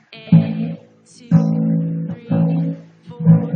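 Open strings on a bass guitar are plucked with the index finger, four deep, sustained notes in an even slow pulse, each ringing briefly before the next, close and clear with no talking.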